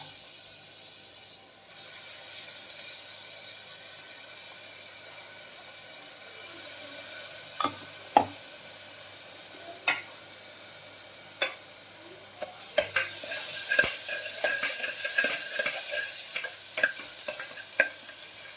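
Coarsely ground onion sautéing in a pan for mutton soup: a steady low sizzle with sharp spatula clicks and scrapes scattered through the second half, no one speaking.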